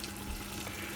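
Cold water runs steadily from a tap into a cooking pot over browned meat, a soft, continuous splashing rush heard alone.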